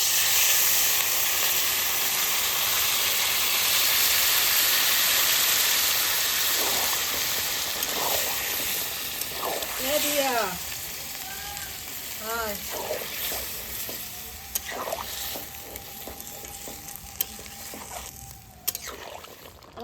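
Meat curry in a pan sizzles steadily as water is added, a broad hissing wash that fades slightly, with scattered clinks and voices talking in the background.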